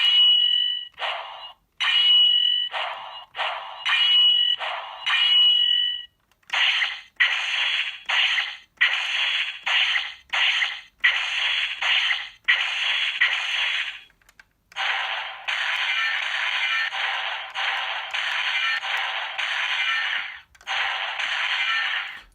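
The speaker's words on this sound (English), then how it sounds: "With these 3 buttons, they all make different sounds, and they kind of cycle through a little bit" Legacy Power Sword toy buttons trigger electronic sound effects: loud, bright, buzzy bursts and zaps cut in and out in quick succession, some with high warbling tones, then longer crackling blasts, all close and without talk.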